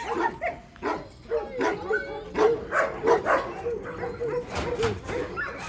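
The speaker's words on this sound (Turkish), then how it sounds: "Burada yine iki tane yaşlı ihtiyar safkan köpeklerimiz var." Kangal dogs on a farm, an old purebred male and female, bark and whimper in short, repeated yips and whines at close range, overlapping one another.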